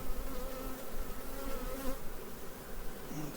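Honey bees hum steadily and softly around hive frames being lifted out of a hive on goldenrod nectar flow, a continuous close buzz with individual bees rising in pitch as they pass.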